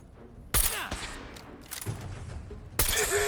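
Bursts of gunfire ring out in the video game Fallout 4, two loud, dense volleys a couple of seconds apart with a rougher clattering stretch between them.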